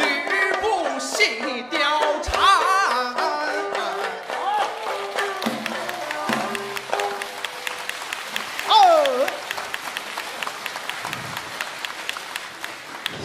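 Live theater audience applause after a jingyun dagu drum-song performance at a Deyun Society concert in Tianjin, a rippling patter of clapping mixed with voices and someone speaking throughout.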